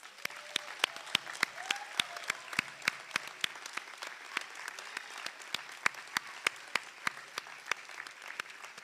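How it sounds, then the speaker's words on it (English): At a college honors and awards convocation, an audience claps in a sparse, echoing round, sharp individual claps standing out over a softer bed of applause, sustained for several seconds at a moderate distance. "Please join me in giving them another round of applause."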